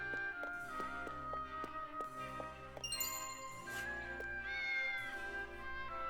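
A talking cat in the video game Triangle Strategy gives a drawn-out meow over soft background game music with chiming tinkles and bell-like tones, the music continuous and fairly quiet throughout.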